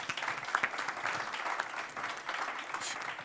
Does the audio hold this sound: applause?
yes